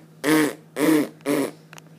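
Three loud fart sound effects, each about a quarter second long and evenly spaced, play alone over a low steady hum, with a faint fourth puff at the end.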